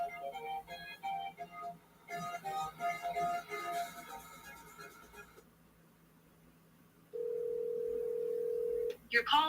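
A telephone call tone, first a stretch of faint chiming tones and then a steady, unbroken tone lasting about two seconds, heard fairly quietly with a voice talking nearby.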